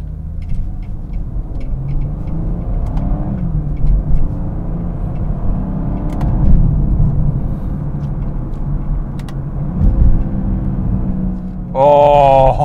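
A Dinan-tuned 2016 BMW 340i xDrive with over 400 bhp accelerating on the road under paddle shifts, its engine drone steady and loud in the cabin with rising revs and brief shift pauses, ending in a higher-pitched whine.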